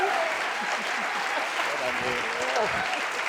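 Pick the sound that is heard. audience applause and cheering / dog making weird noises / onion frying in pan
audience applause and cheering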